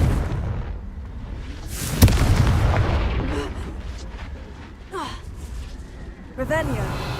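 A Confringo blasting spell detonates in Hogwarts Legacy amid the ruins of an old castle, a sudden booming burst that rumbles and fades under a dense game soundscape of ambient noise and chirping effects.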